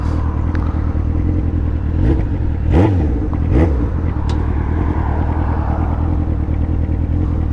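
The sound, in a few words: motorcycle engine revving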